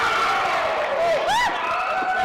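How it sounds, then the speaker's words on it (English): Crowd at an FWE Reload mixed tag wrestling match, cheering and whooping loudly with high rising shouts, layered under an announcer talking. "And our great crowd here for FWE Reload coming alive for Amy Love"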